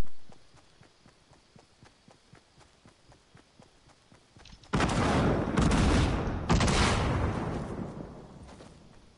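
Infantry rifle fire in the Fortnite video game: after a stretch of faint, regular ticking, loud bursts of shots break out, with two heavy clusters carrying to the end.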